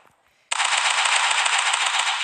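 Sustained rapid automatic gunfire from a weapon in the shooter game Local Warfare starts abruptly and continues as one dense, loud burst without pause.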